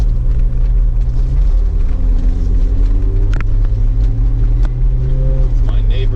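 A Plymouth Prowler's engine rumbles loud and close while driving on rough roads, its low drone rising and shifting with gear changes and acceleration, with someone talking over it.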